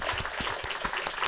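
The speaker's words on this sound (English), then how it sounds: "clap it up for that" Short burst of audience clapping at a real estate investing event, individual claps distinct and fairly faint, with a voice briefly heard beneath.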